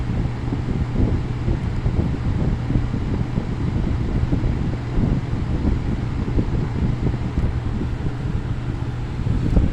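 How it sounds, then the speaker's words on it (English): Two box fans, a Holmes HABF-21 and a Lakewood 223, running together with a steady, close, broadband whoosh of moving air and a low motor hum underneath, continuous throughout. "Not a huge difference in the speeds on the two fans, because I mean they use the same motor, almost identical blades"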